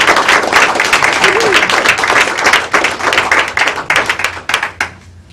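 An audience at a council candidate forum breaks into warm applause, dense overlapping claps filling the room, then thinning into scattered claps as the ovation fades.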